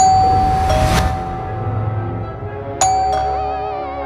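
A two-tone electronic chime sounds, decays, then a brighter ding rings out near the end, loud and close.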